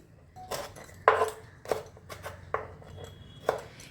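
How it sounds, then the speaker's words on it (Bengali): A knife cuts through a soft roasted onion, giving about six quiet, sharp taps at an uneven pace against a cutting surface. "এভাবে পেঁয়াজটাকে প্রথমে একটু কেটে নিলাম"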